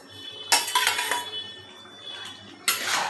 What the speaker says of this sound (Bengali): চিকেনটাকে এখন কষাবে।